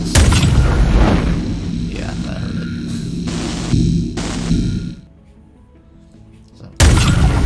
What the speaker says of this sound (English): What you're hearing with those guns, I'm firing missiles.